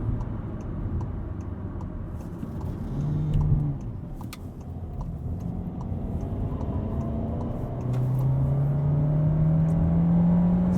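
A 2020 VW Golf is driven hard around corners, its engine droning steadily with rising pitch as it accelerates out of bends, accompanied by a light ticking from inside the cabin.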